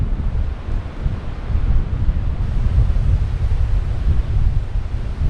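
Wind at Canaveral National Seashore buffets the microphone with a continuous low roar and rumble, steady and close, with no voices over it.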